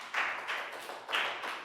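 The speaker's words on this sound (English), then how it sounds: "Big round of applause for Down." A Year 3 class claps in a few short, soft bursts, scattered hand claps rising and fading quietly with no talking.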